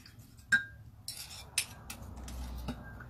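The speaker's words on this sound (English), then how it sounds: "That's all I'm doing is stirring it." A spoon stirring peanut butter and chocolate into a cup of coffee, with a few sharp metallic clinks against the mug spaced irregularly over quiet background scraping, close and faint.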